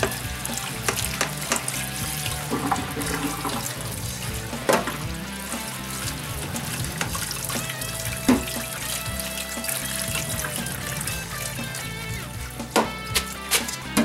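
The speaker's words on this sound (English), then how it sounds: "I'm going to run cold water over it to stop the cooking process completely." Cold tap water runs steadily over cooked linguine in a colander, a continuous hiss and splash with occasional clinks and knocks, close by.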